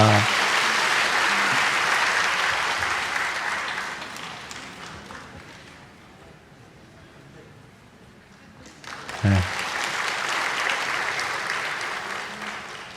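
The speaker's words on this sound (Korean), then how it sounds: "우리 박수로 이 아이를 축복합니다" A church congregation applauds during a Sunday service to bless a child, with loud, dense clapping from many people that fades for a few seconds and then swells back up. Faint voices sit beneath the applause.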